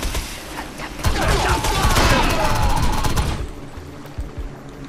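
Rapid automatic gunfire from a machine gun in the online shooter game Defiance, a loud dense burst lasting a couple of seconds before cutting off, with faint background game sounds afterward.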